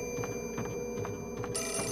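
Rapid, repeated bursts of telephone bell ringing sound in the Project Zero 4 game, fairly loud over a steady humming ambience.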